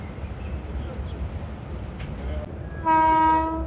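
An Indian Railways LHB train with its locomotive passes near Delhi, a low rumble that ends in a loud, sustained horn blast, with a voice talking underneath.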